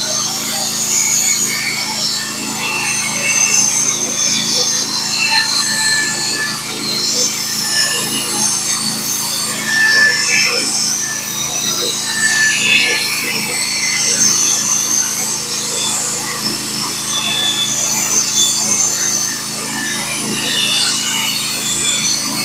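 A Norwood HD36v2 sawmill cuts 8/4 black locust slabs, its blade giving a loud, steady, even whine and rasp that holds unbroken through the cut, with the engine droning underneath.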